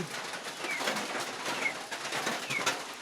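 Soft pigeon coos repeat a few times over a steady hiss of outdoor ambience, moderately close and fairly quiet.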